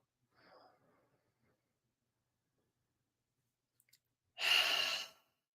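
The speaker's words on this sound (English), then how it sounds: "We're going to take a few deep breaths." A deep breath drawn in and let out during a guided relaxation session, one soft breath early, then a strong, close, airy exhale near the end after a quiet pause.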